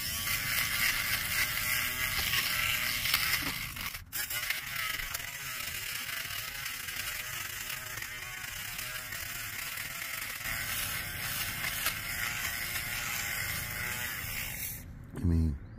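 Steady mechanical buzzing whir of a small electric fabric shaver running continuously over car seat cloth, close up, with faint rattling, brief pauses near the start and end.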